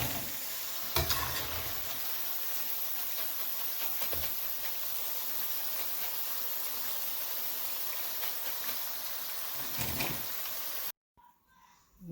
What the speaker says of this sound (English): So just fry it up till it's golden crispy, just like this